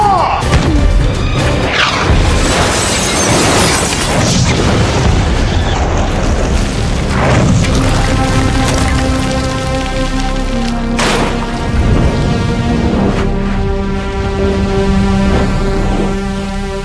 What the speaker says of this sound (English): Highly explosive round. Impact detonated.